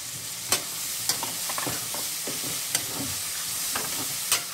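Green peas go into a pan of softened tomatoes and frying macaroni masala, with a hissing sizzle and several sharp scraping knocks of a spoon stirring against the pan.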